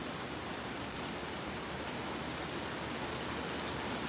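Heavy rain pours steadily during a thunderstorm in Effingham, Illinois, a dense unbroken hiss with no voices and no distinct thunder claps.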